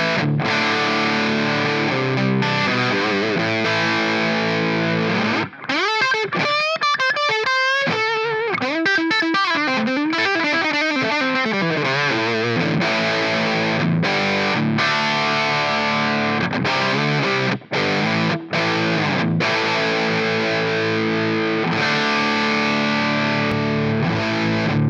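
Heavily distorted electric guitar played through an Amplitube 5 Dual Rectifier amp simulation, thick chugging high-gain chords with a run of sliding melodic notes midway, loud and continuous with no talking.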